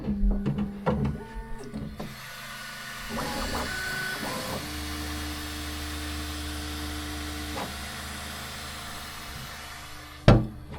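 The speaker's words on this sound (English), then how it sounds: "Let me show you the printer as well." A 3D printer running, with stepper motors whining in short pitched runs and bursts, steady fan hum underneath, and a few clicks and a sharp knock at the close, heard close in a quiet room.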